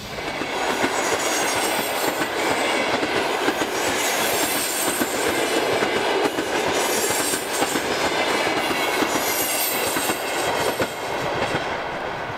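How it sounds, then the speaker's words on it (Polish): Loud, continuous rumble of a passenger train departing for Moscow, heard from inside the carriage, with rhythmic clickety-clack of wheels over rail joints and occasional wheel squeal throughout. "Jestem w pociągu, teraz startujemy do Moskwy"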